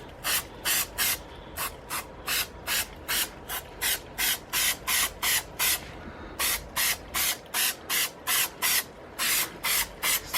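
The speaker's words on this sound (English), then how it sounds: "I'm trying to spray as evenly as I can" Short, regular bursts from an aerosol can of suede protector hiss one after another at close range onto a suede bag, with a brief pause partway through.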